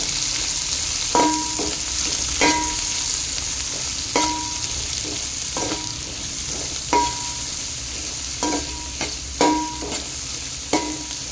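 Onions stirred in a hot pan for chicken fried rice biryani, a steady frying sizzle under repeated scraping spoon strokes roughly every second or two, close and alone without talk.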